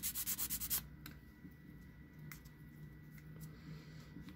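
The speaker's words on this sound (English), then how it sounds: "Now we're just gonna sand off the pieces over here" Sandpaper rubs on plastic leg pieces from an Entry Grade Build Strike Exceed Galaxy model kit. Nearby, a quick run of about eight rhythmic strokes is followed by softer, scattered scrapes and taps at low level.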